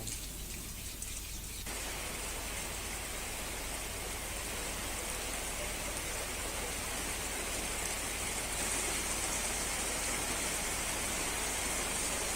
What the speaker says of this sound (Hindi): जहां पर सुबह से ही ओले भी गिरे, बारिश भी हुई